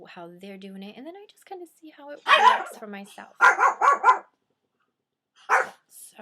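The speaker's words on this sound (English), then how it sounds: "that is my dog" A pet dog gives a few short, sharp barks in quick bursts, fairly close, interspersed with a person talking calmly nearby.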